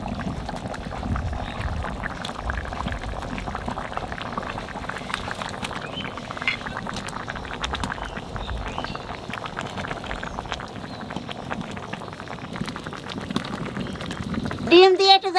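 Tomato curry simmers with egg in the pot, giving a steady close bubbling and sizzling hiss that runs throughout, with a brief clatter right at the end.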